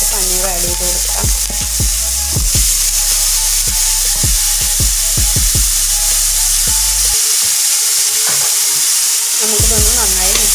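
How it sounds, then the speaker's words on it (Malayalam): Paneer and mixed vegetables are stirred in a frying pan for a vegetable roll, with steady loud sizzling and repeated sharp scrapes and clinks of the spatula against the pan, and no talking. "നമുക്കിതിനൊന്ന് നന്നായി മിക്സ് ചെയ്ത് കൊടുക്കാം"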